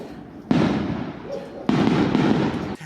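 New Year's Eve fireworks crackle in two dense, sustained bursts of popping and rumbling, moderately loud, with a faint voice in between.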